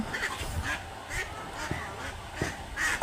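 Ducks quack and honk in short, repeated calls amid a constant flock murmur during cholera vaccination on a farm, several near calls spaced across the moment with faint background noise.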